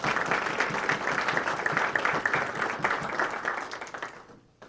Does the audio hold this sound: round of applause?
yes